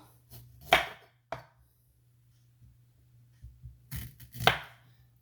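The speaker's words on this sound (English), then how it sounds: "So okay, so I'm gonna cut the end off." A knife chops the end off a plantain against a cutting board in a few sharp, close strikes separated by quiet pauses.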